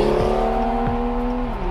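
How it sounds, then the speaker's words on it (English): A BMW car driving, heard from inside as a loud steady engine drone with harmonic tones and a couple of brief pitch sweeps. "You're hearing a BMW"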